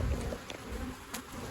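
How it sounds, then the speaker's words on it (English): Honey bees swarm around an open hive while colonies are being split, giving a close, continuous buzzing drone with brief louder passes of single bees and no voices. "I'm going to move some of these strong combs next to the brood nest and shake some bees"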